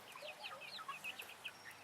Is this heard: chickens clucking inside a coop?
yes